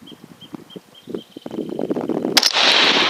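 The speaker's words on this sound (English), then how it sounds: "you're shooting right between the target" A rifle topped with an ATN X-Sight 4K Pro 5-20x scope fires once at an outdoor range day, a single sharp report following a stretch of low background rumble and giving way to a sustained hiss.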